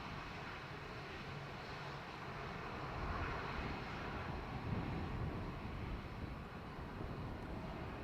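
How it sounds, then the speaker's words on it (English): A Qatar Airways Boeing 787 Dreamliner arriving from Doha at Dublin Airport gives a faint, distant engine rumble that rises slightly midway, a steady low roar with no voices. "Qatar coming in from Doha on a Dreamliner."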